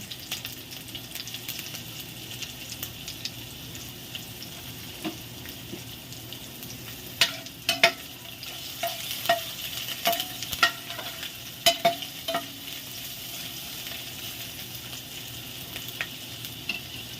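Onion fries in a pan after browned garlic, giving a soft, steady sizzle, with a run of sharper clinks and scrapes of a utensil stirring near the end and no one talking.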